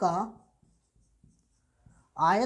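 Writing on a board during a maths lesson: faint, scattered scratchy strokes in a quiet pause between stretches of a voice at the start and end.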